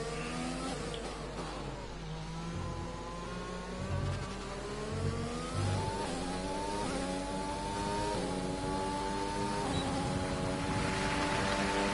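F1 car engine during a hot lap in F1 2020 at the Spanish Grand Prix, a high-pitched screaming whine climbing through gears with quick downshift blips, continuous and close, no talk.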